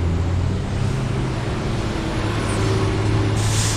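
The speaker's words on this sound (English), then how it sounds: "Getting a lot of noise from the traffic." Street traffic beside a tram line, a loud, steady rumbling roar with low engine drone and a faint rising whine near the end, continuous and close, no voices.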